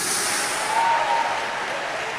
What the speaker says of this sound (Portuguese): Esse aplauso não é para mim, é para Jesus.